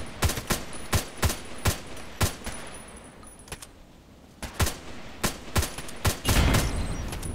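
An HK417 rifle fires in a shooter video game: loud, evenly spaced single shots crack out about a dozen times, with a brief pause midway before the firing resumes.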